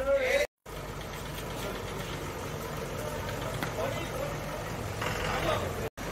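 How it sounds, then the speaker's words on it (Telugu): A bus engine idles with a low steady rumble as the bus pulls in, continuous and close, while people talk nearby. "ఇప్పుడు మా బస్సు లోపలికి వస్తుంది ఫ్రెండ్స్"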